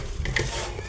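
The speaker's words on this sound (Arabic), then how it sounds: "نقلب" Chicken wings get stirred in a pan in a brief, close burst of scraping and shuffling over a soft sizzle, with a couple of light knocks from the utensil.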